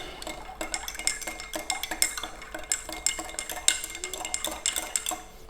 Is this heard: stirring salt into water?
yes